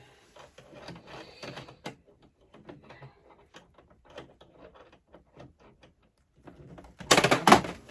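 A sewing machine runs a zigzag stitch on tutu ribbon. Soft, irregular mechanical clicks and taps lead to a louder whirring burst near the end.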